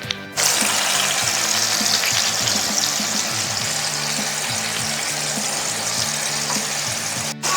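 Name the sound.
pork tenderloin searing in clarified butter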